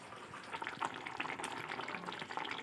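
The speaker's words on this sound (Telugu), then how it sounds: "మధ్య మధ్యలో ఇలా తిప్పుకుంటూ ఉంటే ముక్కలు బాగా ఉడుకుతాయి." A pot of Telugu-style cheedumulu pulusu, a small-fish curry, bubbles and sizzles steadily while a spoon stirs it now and then, a close, continuous wet simmer with soft scraping and no talk.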